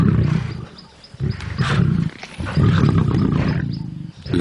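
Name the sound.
lions fighting over a warthog carcass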